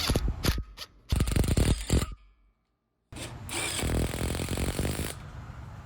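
A power driver drives hex head self-tapping screws into a steel cable handrail, in two loud bursts of whirring mechanical rattle separated by a silent gap, then a longer steady drive near the microphone.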